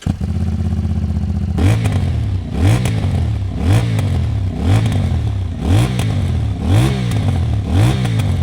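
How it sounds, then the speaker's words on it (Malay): A Moto Morini 450cc motorcycle engine with a 270-degree crank idles with a lumpy thrum, then is revved repeatedly in short, loud blips, each rising and falling in pitch, close up with no talking. "Lagi motor ni menggunakan 270 crank degree yang menghasilkan bunyi ini."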